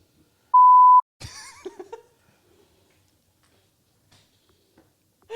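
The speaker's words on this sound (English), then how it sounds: "we'll beep that out" A single clean censor bleep, a steady electronic tone of about half a second, cuts over a word, followed by faint speech and small clicks.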